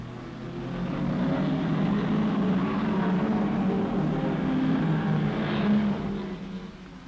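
1964 Tour Auto racing sports cars, an MG among Triumph Spitfires, engines droning steadily at mid distance with a slight rise and fall in pitch as they run past.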